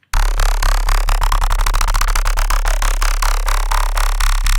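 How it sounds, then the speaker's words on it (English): Bass line preset 100 from a pack of 100 massive bass patches, a loud, fast-pulsing synth bass riff with rapid stuttering notes and a rising sweep midway, heard on its own. "baseline 100 sounds like this."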